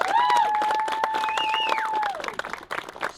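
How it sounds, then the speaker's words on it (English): A crowd applauding at an air show ribbon-cutting ceremony, dense clapping with some cheering and a sustained whistle over it, fading out toward the end. "let's give first off a big, huge round of applause for the Commemorative Air Force"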